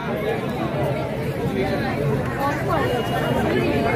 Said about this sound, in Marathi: फार मोठी गर्दी या ठिकाणी झालेली आहे।